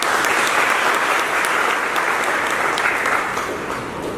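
Audience at an academy award ceremony applauding students who have won prizes, steady dense clapping throughout that eases slightly toward the end.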